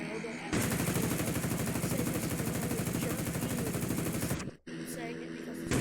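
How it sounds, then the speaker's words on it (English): .50 cal machine gun in the Roblox game Plane Crazy fires one sustained, rapid, loud stream of thumping rounds for about four seconds, cuts off abruptly, then a quieter mechanical background continues. "It's that iconic 50 cal thump."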